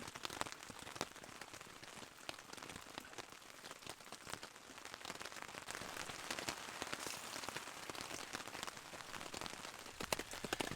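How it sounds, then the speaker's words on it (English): Heavy rain drums steadily on a camping swag during a severe storm with strong wind, a dense close-up patter with scattered sharper drop hits that swells slightly midway and continues without letup. "This rain doesn't look like it's going to let up."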